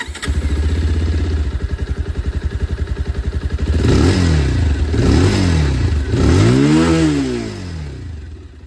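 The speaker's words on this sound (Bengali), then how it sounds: "পালসার 220F যা আওয়াজ সেটাও একবার শুনিয়ে দিই।" A 2026 Bajaj Pulsar 220F motorcycle idles with a close, pulsing exhaust note before several revs swell and drop, with the last a longer, rising and falling throttle sweep.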